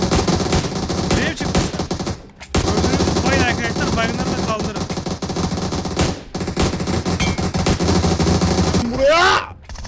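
PUBG Mobile gunfire, including 25 AUG and GROZA rifles, crackles in loud rapid bursts with brief pauses, mixed with game effects and a voice talking over the shooting.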